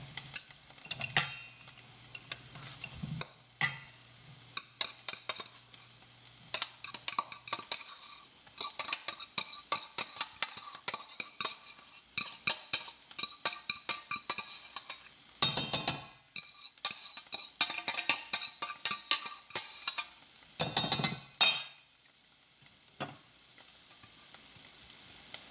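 Cooked white rice is scooped and fluffed from a pot into a bowl, giving a long series of sharp spoon clinks and scrapes against the metal, irregular and close, with brief louder clatters near the end and no talk.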